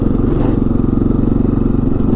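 Air-cooled Honda 300 Fourtrax 4x4 ATV engine running with no cooling fan, a close, steady low thrumming idle with even rapid pulses and a brief faint higher hiss early on.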